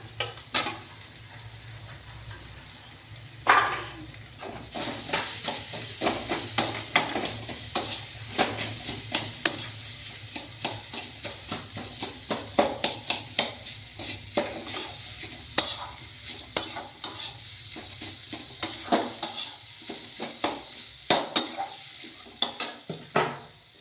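Boiled potato filling stirred and scraped in a frying pan with a metal spatula, many quick clinks and scrapes over a soft sizzle, close and continuous without talk.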